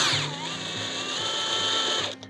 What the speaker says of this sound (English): if we take our drill and we put this on and we spin it backwards